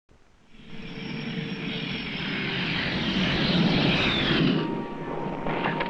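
Grumman Tiger aircraft engine swelling from a quiet start into a sustained, fairly distant roar that peaks and then eases slightly near the end.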